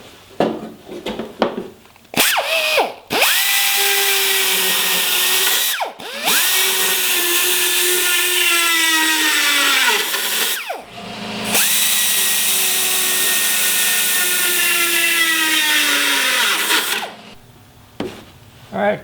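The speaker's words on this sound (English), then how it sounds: "Now I'm just going to put some 1/4 inch holes." A power drill boring 1/4 inch holes through metal boatside parts, loud and close, whining in three long sustained runs separated by short pauses, with a little handling noise at the start and end.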